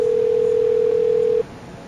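A steady telephone dial tone heard on a call to emergency services, holding one loud, unbroken pitch for about a second and a half before cutting off to leave a faint hiss.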